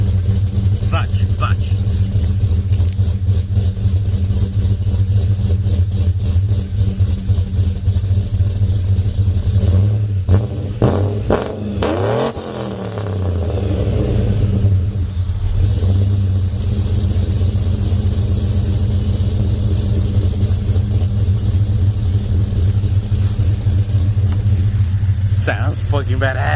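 A truck fitted with a MagnaFlow exhaust revving and accelerating, a deep steady rumble swelling and easing over about half a minute, loud and close, with a voice talking over it.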